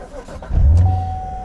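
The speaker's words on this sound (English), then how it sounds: "let's go ahead and turn on the car" A Chevrolet C7 Corvette engine cranks and fires after a fuel fill-up, a loud low rumble swelling near the middle and settling into a steady idle, with a faint whine above it.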